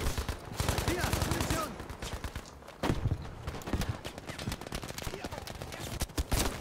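Rapid gunfire in Battlefield V's Breakthrough mode, dense bursts of shots layered close and far, with a sharp loud crack near the middle and continuous battle noise throughout.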